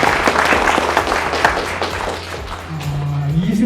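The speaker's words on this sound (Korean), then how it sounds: "큰 박수로" Audience applause at a Korean-American leaders' conference fills the room as a dense, steady wash of clapping from many hands, with a low musical tone rising underneath near the end.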